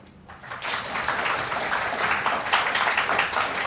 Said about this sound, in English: please give a warm round of applause to Mr. Kang, Professor Yang, Professor Seligsohn, and Ms. Jakes